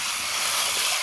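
Chicken pieces poured into a hot pan hiss and sizzle in a loud, steady wash of frying noise with no break.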